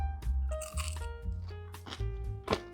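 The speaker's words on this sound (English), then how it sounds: "I'm going to grab one that I destroyed earlier and I'm going to take a bite." Loud, close crunching as someone bites into and chews a crunchy roasted milk biscuit made from baked milk skin, with several crisp cracks spread across a few seconds.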